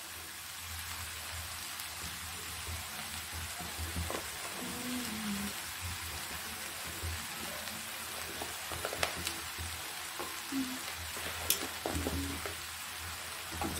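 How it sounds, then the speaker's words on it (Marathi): A filling of chana dal and jaggery cooks in a pan on the stove, giving off a soft continuous sizzle with occasional scraping and stirring knocks from a spoon, and no voices. "हे सारण हे परतत राहते, परतत राहायला पाहिजे नाही तर खाली लागू शकतं"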